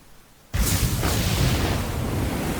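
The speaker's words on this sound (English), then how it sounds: "It's gonna blow up." An explosion in the video game 999: Nine Hours, Nine Persons, Nine Doors bursts in abruptly after near silence and holds as a loud, sustained roaring blast.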